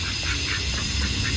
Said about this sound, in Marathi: बघा बदक